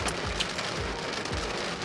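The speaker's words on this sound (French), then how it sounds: "Là on vient tout fermer parce que nous pleut dessus." Steady heavy rain pours down during a storm at a US national park in hot weather, a dense continuous hiss of drops hitting surfaces, close and even throughout, no talking.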